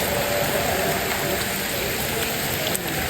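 Heavy rain pours down in a dense, unbroken hiss, loud and close, spattering steadily on surfaces throughout.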